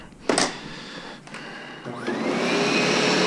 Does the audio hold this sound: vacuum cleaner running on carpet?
yes